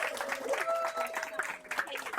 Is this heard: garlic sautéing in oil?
no